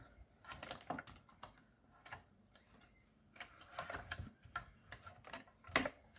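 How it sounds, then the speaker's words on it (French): A mini die-cutting machine being hand-cranked to press stacked cutting plates for scrapbooking gives a run of close, uneven clicking and ratcheting ticks with brief grinding bursts, no voice present. "on va mouliner dans la mini machine de découpe"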